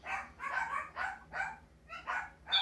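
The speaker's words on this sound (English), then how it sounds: "I hear your dog." A dog barks in a quick series of six sharp yaps with short gaps between them, heard from a distance through an outdoor wireless solar security camera.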